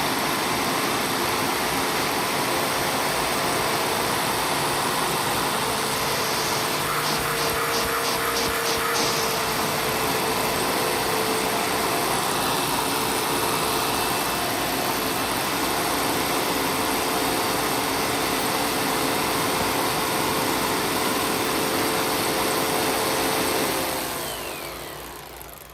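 A bug-infested Bissell PowerForce upright vacuum cleaner's motor drones continuously at close range, loud and even, then winds down near the end.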